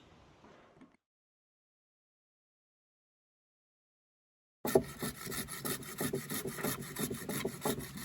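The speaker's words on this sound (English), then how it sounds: "I'm just cutting some thinner branches to be placed along the floor of the kiln" Thin wood branches for a charcoal kiln are cut with a hand saw, giving a brief faint scrape, then silence, then a close run of rhythmic rasping strokes.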